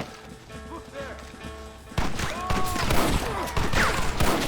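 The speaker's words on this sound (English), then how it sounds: "Get ready to hold off their fire, Marston." Gunfire rattles in the Western video game Red Dead Redemption during a fight at a gate, with dense volleys of shots and crashes growing louder and busier partway through, under game music and ambience.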